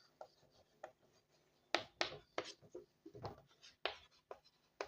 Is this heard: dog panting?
no